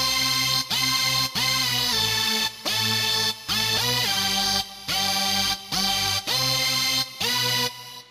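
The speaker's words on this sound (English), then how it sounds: "And that is a preset on Harmless under leads." A bright synth lead preset from the Harmless plugin in FL Studio plays a rhythmic phrase of punchy chords cut into repeating stabs with short gaps, loud and dense with no speech.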